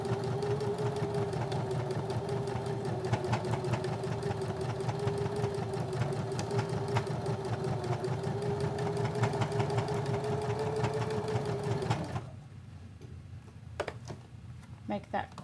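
A sewing machine back stitches across elastic, its motor whirring in a fast, steady rhythm for about twelve seconds before it stops abruptly, leaving a few quiet clicks.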